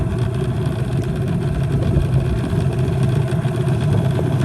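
A fishing boat's outboard engine runs just above idle during bass fishing, a steady, close, low throbbing drone that holds even throughout without changes in pace.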